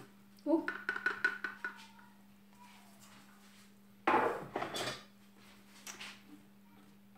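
A utensil scrapes chopped food around inside a plastic food chopper bowl while making rougail saucisse, in two short bursts of close scratching and clattering, with a faint steady hum underneath.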